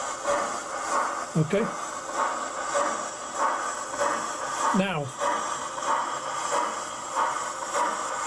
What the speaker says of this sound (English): as you can see, the train's working perfectly.